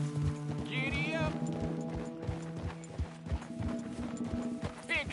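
Horse hooves gallop at a quick rhythmic clip-clop in the Red Dead Redemption 2 game, with whinnies cutting in and a low voice talking over the hoofbeats.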